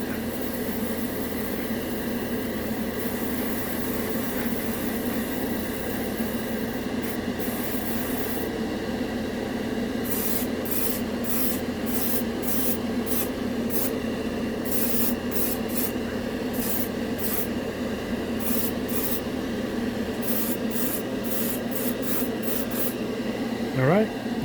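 An airbrush hisses steadily, blowing air to flash dry a second coat of color-shifting metallic paint, a continuous close spray with brief on-off bursts of higher hiss partway through, no talk over it.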